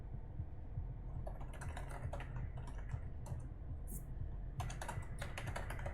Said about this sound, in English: you are hearing me typing